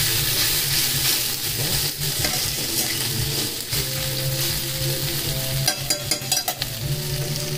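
Sausages frying in a pan give a loud, continuous sizzle with crackling, and a few sharp clatters of utensils near the end. No voices are heard.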